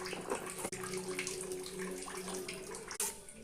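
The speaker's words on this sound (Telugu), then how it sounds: "వాటర్ పోసి కలుపుకున్నాం పౌడర్ని" Water being poured and stirred into homemade barley grain powder for a barley drink, a steady wet splashing and trickling that runs throughout, close and moderately loud, with two brief sharp knocks.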